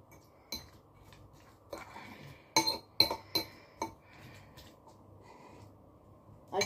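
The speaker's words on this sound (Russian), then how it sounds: "Мешаем, мешаем." A spoon clinking against a bowl in scattered taps and scrapes, close and sparse, with quiet gaps between strokes.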